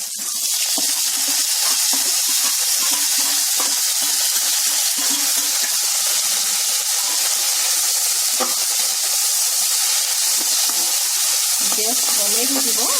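Papaya flowers sizzle and fry in a pan after cumin and chilies, over lowered gas heat, giving a steady close hiss with brief stirring scrapes and faint clinks throughout.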